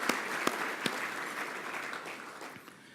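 Applause for the guests at a New South Wales Legislative Council forum: dense, steady clapping from an indoor audience that fades out toward the end, with a few sharper claps standing out near the start.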